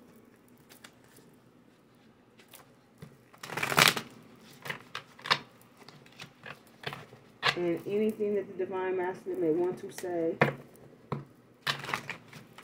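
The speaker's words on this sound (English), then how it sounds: "Uh-oh, that was the worst shuffle." A deck of playing cards is shuffled with quick riffling bursts, one sharp flurry early and another near the end, while someone talks over the scattered card sounds.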